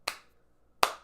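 Two slow, sharp hand claps spaced nearly a second apart, each a crisp, close smack with a short decay, separated by quiet.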